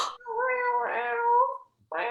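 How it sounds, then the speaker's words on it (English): Cats meowing up close: a long, drawn-out tonal meow that rises and falls, followed after a brief pause by the start of another. "Oh, the cats are back."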